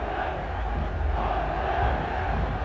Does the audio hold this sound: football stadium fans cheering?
yes